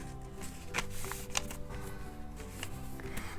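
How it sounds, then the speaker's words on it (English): Paper rustles and creases close by as a sheet is folded in half for an origami ninja star, with soft crinkles and small taps and no voices. "Then you open it up and then you fold it in half but on a line like this."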